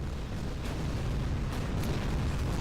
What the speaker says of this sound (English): that's a lot of explosion noises.